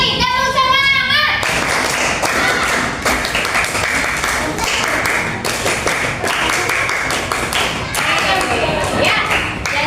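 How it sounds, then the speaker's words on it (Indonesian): Schoolchildren in a coding class perform the rhythmic 'tepuk semangat' clap, loud patterned bursts of hand claps and thumps filling the room, after a brief sung or chanted opening. "Kalau menyenangkan, tepuk semangatnya 3 kali."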